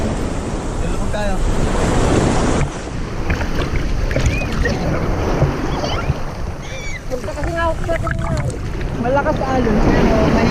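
Ocean waves wash and crash at Abagatanen Beach, a loud, continuous surf roar with strong wind buffeting the microphone throughout, while voices talk intermittently over it.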